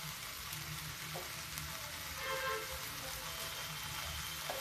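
Tomatoes fry in a pan for dal tadka, giving a faint, steady, even sizzle throughout with no talking.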